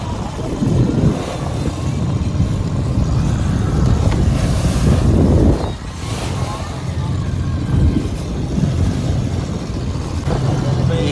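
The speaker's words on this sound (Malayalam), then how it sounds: "ഭയങ്കര ആട്ടം ആടി ഒലിഞ്ഞുകൊണ്ടാണ് നമ്മുടെ ബോട്ട് മുന്നോട്ട് പോകുന്നത്" A boat engine drones under heavy wind and crashing water as the boat rolls heavily through rough sea, with surging swells rising and falling; loud and close throughout.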